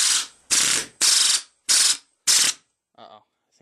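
A pneumatic air hammer driven by an air compressor charged to about 130 psi fires five loud, harsh rattling bursts of roughly half a second each, separated by short gaps, then gives a fainter sputter at the end.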